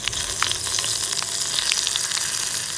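Hot tempering of mustard seeds, chilli and curry leaves poured into Kerala vellari pachadi for a sadya, a loud, dense, crackling sizzle close by with sharp pops, steady and without voices.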